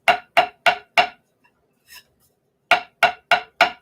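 Andy Reamer drumsticks tapped in two sets of four sharp, evenly spaced clicks, close and clear, with a short quiet gap between the sets.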